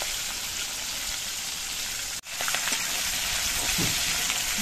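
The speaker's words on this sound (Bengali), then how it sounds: "মাছগুলো কিন্তু একটু কড়া করেই ভাজতে হবে" Pieces of sea fish sizzle loudly and continuously as they fry crisp in hot oil, a dense crackling hiss with a brief dropout near the middle.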